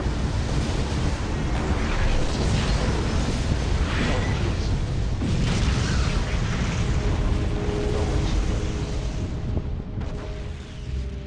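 A space station explodes in Freelancer, a long, loud rumbling blast with rolling debris and roaring noise that fills the whole stretch before easing slightly at the end.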